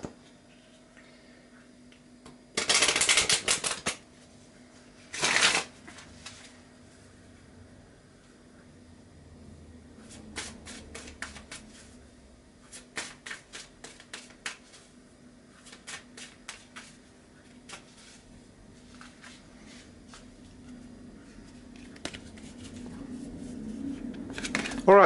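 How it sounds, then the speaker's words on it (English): A deck of tarot cards is shuffled by hand: two loud bursts early on, then long stretches of soft, rapid riffling clicks with occasional quiet talk. "Let me shuffle."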